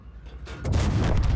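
A tank cannon fires in World of Tanks, a heavy booming blast that hits after a quieter rumble and rings out loud and close for the rest of the moment.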